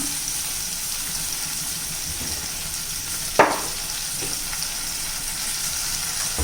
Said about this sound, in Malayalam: ഇനി ഇതൊക്കെ ഒന്ന് ഇളക്കി പൊടിയും കൂടെ ഒന്ന് വഴറ്റിയെടുക്കാം നമുക്ക്.